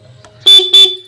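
A bike horn wired to a vehicle and tested underwater gives two loud, close honks in quick succession, each a short, bright blare with a brief gap between, alone without talk.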